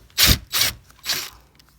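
A 10mm socket wrench turns a mirror nut on a 2017-2020 Honda CR-V, giving three short ratcheting rasps close by, each about a quarter second long with brief pauses between.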